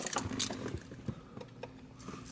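Keys jangling in a C6 Corvette just before a cold start, a few bright metallic rattles and clinks, close and fairly quiet, with no talk.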